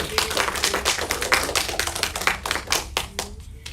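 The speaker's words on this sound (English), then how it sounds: "can we give a big round of applause to all of our characters out here?" An audience at a live event claps, with sharp, distinct claps at moderate loudness for a few seconds before thinning out near the end, and no talking over them.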